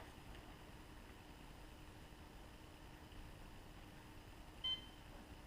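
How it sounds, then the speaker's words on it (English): A single short electronic beep from a Hyperloc 1600 rocket altimeter, signalling only a drogue is connected after calibration, sounds once near the end, clear against faint steady background hiss. "once it gets through with its calibration, it should only beep once"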